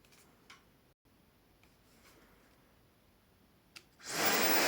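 After a few quiet soft clicks, a Soocas A1 hair dryer switches on at its lowest speed and blows with a steady loud rushing hiss.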